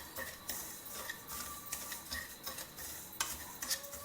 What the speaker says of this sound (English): in a heavy kadai, dry roast 1 cup of this wheat rava over a medium flame